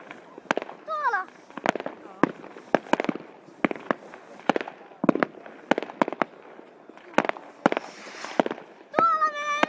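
Fireworks going off for New Year 2011 in Vaasa, Finland: scattered loud cracks and booms at mid distance, with people talking close by and a rising whistle near the end.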